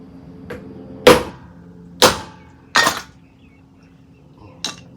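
A punch is struck into metal to dimple it for a Kubota L4701 tractor mirror mount, giving three sharp ringing metallic hits and a fainter fourth, spaced about a second apart in a quiet space.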